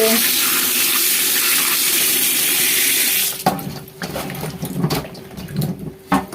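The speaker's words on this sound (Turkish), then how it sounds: "bol suda yıkacağız." Freshly picked cucumbers, muddy from the garden, are rinsed under plenty of running tap water. A loud steady gush flows for a few seconds, then stops and gives way to wet splashing and handling.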